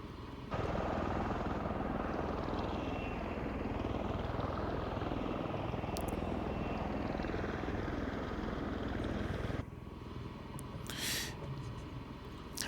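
An MV-22B Osprey tiltrotor in Microsoft Flight Simulator flies past with a loud, steady rotor and engine roar that cuts off abruptly near the end, leaving a quieter background hum.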